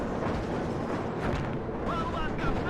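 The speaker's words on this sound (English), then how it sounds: "Su-22 coming in for the bombing strike" In the combat game WARNO, an Su-22 bombing strike lands as a dense, continuous roll of heavy explosions and rumbling booms, loud and close with no pauses.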